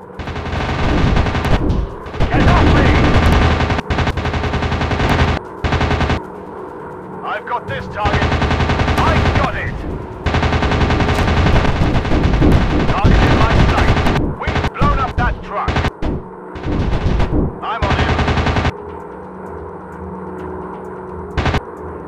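WW2 fighter plane machine guns fire in a mobile dogfight game in loud, rapid bursts separated by short pauses, running through most of the stretch against a constant engine-like drone.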